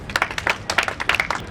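A modest round of applause for a speaker at a business summit and awards event in a hotel venue, scattered hands clapping in uneven bursts across the whole stretch.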